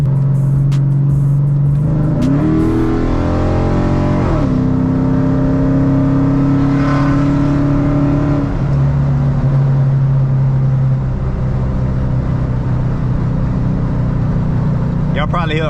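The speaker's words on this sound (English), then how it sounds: "Y'all probably hear a bunch of wind." Steady rush of wind fills the cabin of a car with a 5.7 Hemi engine, driving with the roof open, over a continuous engine drone that rises and shifts as the car accelerates.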